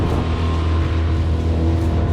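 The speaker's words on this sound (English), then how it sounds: "at half throttle, this is the sound" A Tohatsu 8 hp outboard motor runs at half throttle on a boat at sea, giving a steady, even engine drone with a low hum that holds constant throughout, with no talking.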